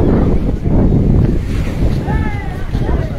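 Sea waves driven by a cyclonic depression surge over the guard wall at Digha beach, making a loud, continuous roar of churning surf mixed with gusting wind across the microphone.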